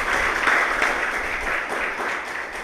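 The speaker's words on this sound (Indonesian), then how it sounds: "Tepuk tangan dulu, Paul Bangtan nih." Audience applause at a Polbangtan Manokwari public lecture, a dense steady wash of many hands clapping that holds for the whole stretch without a break.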